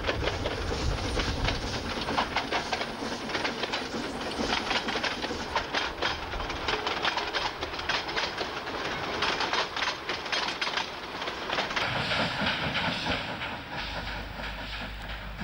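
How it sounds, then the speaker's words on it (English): Romanian steam locomotive train running in 1995, with a steady, loud rumble of rolling wagons and rhythmic clickety-clack on the rails, hiss and chuffing mixed in, continuing without pause and easing slightly near the end. "Romania, in 1995, still had a number of active steam locos, used mostly only on special workings."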